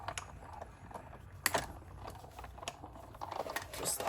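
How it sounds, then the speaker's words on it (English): A manual die cutting machine draws a stamp cutting pad through its rollers to cut out a strawberry ice cream shape, making faint, irregular close clicks and rattles. "Bring in the machine. And we're gonna run this through and cut out our cute little strawberry ice cream."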